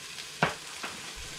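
Tomato paste goes into a beef curry cooking in a pan, giving a faint sizzle with one sharp scrape or clatter followed by a softer one, close by and with no talk.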